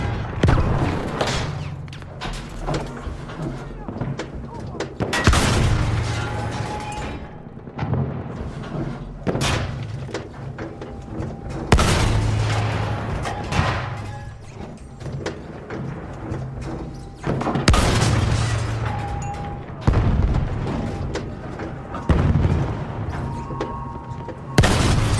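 Artillery barrage in a war video game, with heavy booming explosions striking every few seconds, some near and loud, others distant thuds, amid scattered gunfire and rumble.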